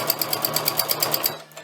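A sewing machine free-motion stitches in rapid, evenly pulsed bursts, close and moderately loud, slowing and trailing off at the end with no talking.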